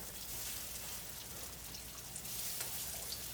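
Steady crackling sizzle of crab cakes searing in hot oil, a dense hiss with scattered pops, continuous and close.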